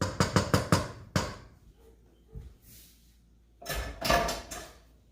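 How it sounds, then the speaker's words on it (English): Stir-fried vegetables for a BBQ chicken and quinoa stir-fry are scraped and tipped from a pan into a bigger pot, giving rapid metallic clatters and knocks, then a quieter pause and a final burst of scraping and clanking, with no talking. "Transferring it to a bigger pot just allows it to be easier to mix."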